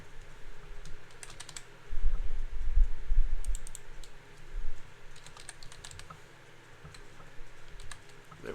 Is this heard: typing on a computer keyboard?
yes